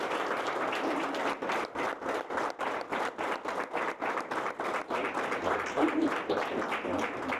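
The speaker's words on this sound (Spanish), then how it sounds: "por favor, le brindamos un aplauso a Erwin Robertson." Sustained audience applause following a talk at a book launch during a Chilean book fair, dense rhythmic clapping from a seated crowd holding steady for several seconds, loud and close.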